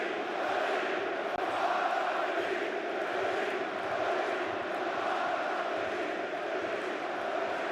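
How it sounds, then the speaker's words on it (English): Huge football stadium crowd at the DFB Pokal semi-final between VfB Stuttgart and RB Leipzig roaring and chanting, a dense continuous wall of voices filling the space. "now listen to this crowd"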